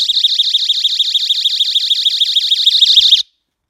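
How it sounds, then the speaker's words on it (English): A GE dorm and apartment window alarm shrieks close by, a loud piercing warbling tone pulsing rapidly and steadily for about three seconds before cutting off abruptly. "let me put the alarm on and move it, and you can see what that sounds like."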